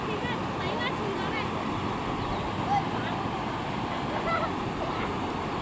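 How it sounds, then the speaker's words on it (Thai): Fast floodwater over a metre deep rushing across a village road near Phra That Saen Hai in Wiang Haeng, Chiang Mai, a steady broad roar with wind buffeting and a voice faintly beneath it. "ระดับน้ำบนถนนตอนนี้น่าจะประมาณเมตรกว่าๆนะครับ แล้วก็ไหลเชี่ยวไหลแรงมากนะครับ"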